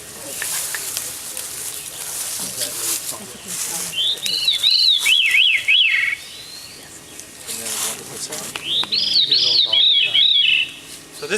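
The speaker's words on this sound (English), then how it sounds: "So this is a thrush related to robins and bluebirds and the wood thrush." A wood thrush, a relative of robins and bluebirds, sings two clear fluting phrases of rapid rising and falling notes, separated by a pause, while a person talks outdoors.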